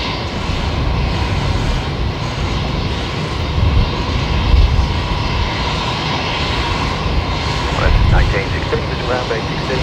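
A Link Airways airliner arrives at Brisbane Airport with a loud, sustained engine roar that swells and eases over several seconds, while voices talk over it.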